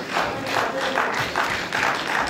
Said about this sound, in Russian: Зрители поддерживают бойцов аплодисментами.